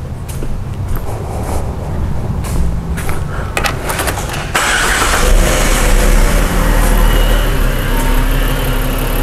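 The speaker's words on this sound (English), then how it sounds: "I'm gonna go and start the car." A Ford Falcon with a rich oxygen-sensor fault cranks and catches, then settles into a loud, steady running idle close by, with a rough mechanical clatter before the start.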